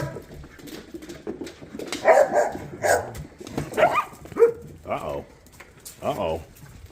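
A big dog making a series of barks, yips and whimpers at feeding time, close by and mixed with people talking.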